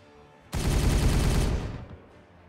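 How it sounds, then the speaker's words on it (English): A burst of rapid gunfire in the Warhammer 40K Regicide video game, loud and dense, lasting about a second before it trails off, with no talk. "Open fire!"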